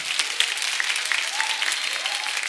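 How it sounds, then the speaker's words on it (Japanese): Audience applause after a beatbox battle at a live event, a dense, steady clapping crowd filling the whole stretch with no other sound above it. "裏にさんにも大きな拍手お願いします。"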